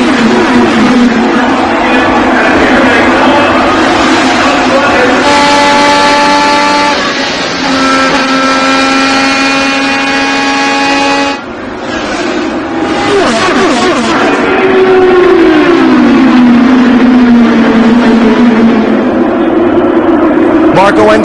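IndyCar race cars roar as the field accelerates at the Indianapolis 500 restart, a dense, loud wall of engine whine with rising pitch sweeps and a large crowd underneath.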